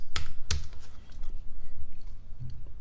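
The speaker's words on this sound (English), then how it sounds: "Let's say I start typing in file cabinets." Keys clatter on a computer keyboard in a quick, uneven burst of taps, a couple of sharper strikes standing out, close and fairly quiet with no talk.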